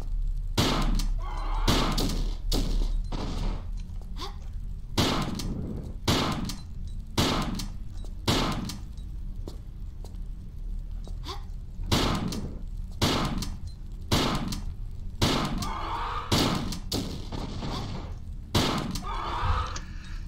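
Shotgun blasts in a Tomb Raider custom level, roughly a dozen sharp, loud shots spaced irregularly over a quiet background, with short gaps between bursts.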